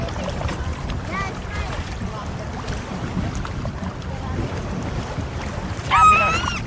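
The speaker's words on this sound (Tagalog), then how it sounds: "Grabe naman tong alon." Sea waves at a beach wash and rumble steadily through the whole stretch, mixed with wind buffeting the microphone and people talking nearby, with a louder surge near the end.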